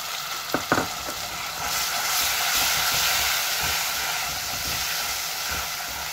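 Onion tipped into hot oil with browned garlic for a mustard hilsa fish dish, starting with a couple of sharp spatters and then settling into a strong, steady, close sizzle that holds without any talk.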